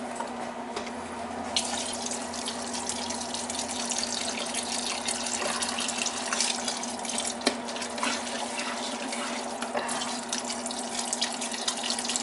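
Beef broth streams steadily from a container into a pot of thick chili, a continuous splashing pour lasting many seconds with no voices.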